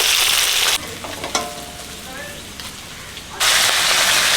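Dry chili, bay leaf, panch phoron and chopped onion hit hot mustard oil with a loud, close hiss that drops to quieter sizzling with a few crackles before flaring loud again.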